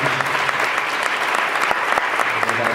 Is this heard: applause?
yes